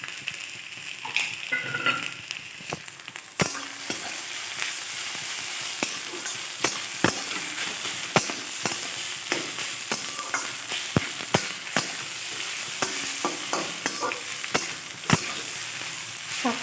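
Fried prawns tossed with taro greens and ground cumin in a hot pan: steady loud sizzling with repeated sharp spoon scrapes and clacks against the pan throughout, no voices.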